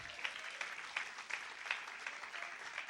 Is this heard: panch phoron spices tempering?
no